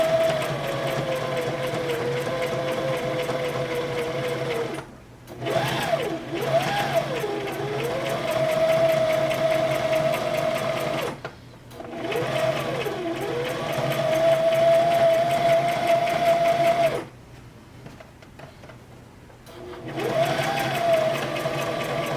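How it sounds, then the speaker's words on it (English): Sewing machine running a zigzag stitch over a fabric owl's eye with a regular needle, a steady close motor whir with a faint pitch that rises and falls, stopping briefly three times before starting again. "I'm just using a regular needle, and I'm just going to zigzag right over the eyeball"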